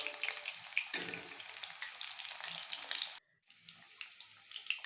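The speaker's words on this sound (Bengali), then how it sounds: "কড়াই দিয়ে দিচ্ছি সাদা তেল। তেল গরম হলে পকোড়াগুলো ছেড়ে দেব।" Chicken pakoras deep-fry in white oil in a kadai, a dense close crackling sizzle that cuts out briefly and then resumes more softly.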